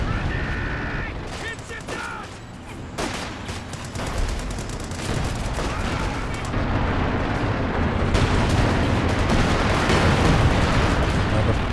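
Company of Heroes 2 battle at Lanzerath: dense, continuous gunfire with rapid machine-gun bursts, sharp cracks and booming explosions layered over a constant loud rumble, with talk blended into the din.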